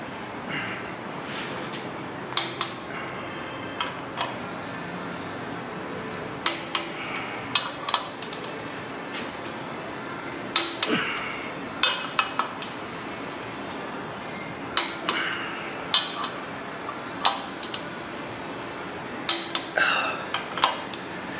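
A torque wrench tightens bolts in a star pattern up to 60 foot-pounds while a Chevrolet 454 big block is assembled with its 700R4 transmission. Sharp metallic clicks repeat at fairly regular intervals over a quiet steady background.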